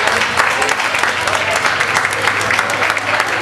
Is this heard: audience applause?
yes